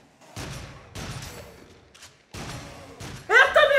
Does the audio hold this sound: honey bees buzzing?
no